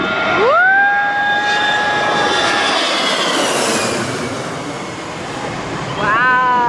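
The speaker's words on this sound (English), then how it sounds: "get a video of a plane flying over my head" Low-flying airplane passing directly overhead at a beach in St Maarten, a loud, close jet roar with a rising whine that swells and fades, followed by another engine whine starting up near the end.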